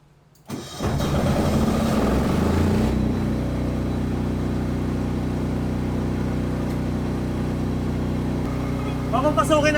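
A Philking PK4200 automatic generator kicks on after a power outage, its engine starting with a brief crank and then settling into a steady, loud mid-pitched running drone that holds to the end.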